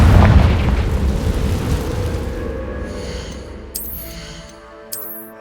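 A Confringo blasting spell erupts in the Hogwarts Legacy video game: a loud, deep booming explosion with a long rumbling decay that fades into quieter game effects and a couple of bright chime-like sparkles near the end.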